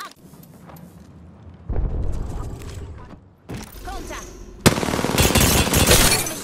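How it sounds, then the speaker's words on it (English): Gunfire in a shooter video game: scattered shots give way to loud, dense bursts of firing toward the end, with game voice callouts mixed in. "Enough, I'm getting shot at."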